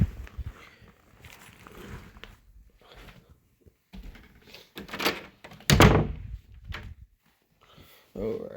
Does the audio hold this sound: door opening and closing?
yes